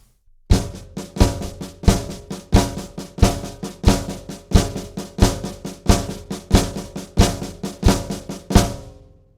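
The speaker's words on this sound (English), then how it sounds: "Now what we want to do is the same thing on the snare drum, but we want to add bass drum to the accents." Flam accent lick played on a snare drum with the bass drum added on the accents, a steady repeating pattern of sharp, loud strokes with deep kicks, close and alone.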